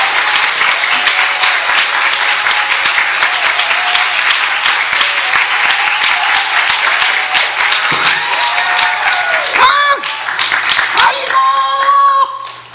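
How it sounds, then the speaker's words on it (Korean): Church congregation applauding steadily during a combined intergenerational worship service, a dense, loud, sustained wash of clapping throughout, with voices and a few louder calls breaking through near the end. "박수로 맞으세요."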